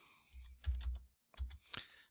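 Typing on a computer keyboard at a command prompt: a few close, soft key presses clustered in two short bursts, with a brief pause between them.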